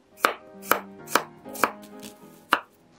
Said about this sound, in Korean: 마늘 두 개는 얇게 편으로 써세요.